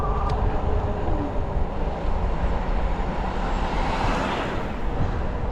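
Rad Mini folding electric bike running on throttle at 750 watts around 12 to 14 mph, giving a steady, even motor whine mixed with broadband road and wind rush that stays continuous and fairly loud throughout, with no talk.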